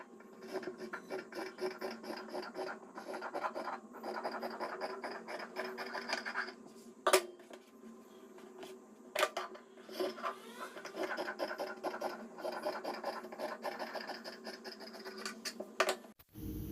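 Scissors cut through fabric for kurti sleeves in a continuous run of close, crisp snipping and rasping strokes, with a few brief pauses and sharp knocks in between, no talking.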